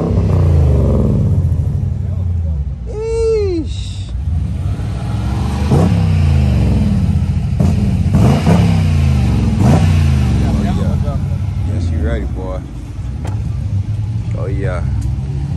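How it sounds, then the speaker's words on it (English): A car engine fitted with Flowmaster exhausts revs in several throaty bursts and a rumbling idle, close by, while people talk over it throughout. "Hey, hit the gas a little bit."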